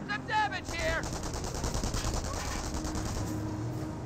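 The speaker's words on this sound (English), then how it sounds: "Ooh, good shot there by the sniper." Gunfire in the World War II strategy game Company of Heroes, a sniper shot amid a dense, continuous battle soundscape of rattling shots and explosions, with a brief voice at the start.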